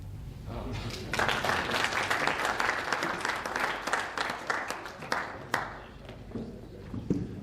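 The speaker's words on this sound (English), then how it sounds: "Please again join me in a big round of applause." A conference audience breaks into a round of applause, steady dense clapping that swells after a second, then thins and tapers off over several seconds.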